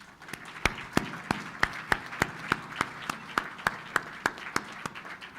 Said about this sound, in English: we would give them a round of applause for everything that they've done